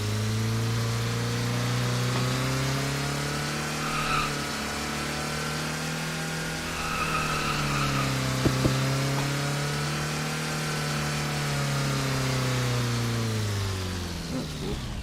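A McLaren car in a Roblox racing game, its engine droning steadily throughout with rising and falling pitch sweeps as it accelerates and slows, one brief sharp knock midway and no talk.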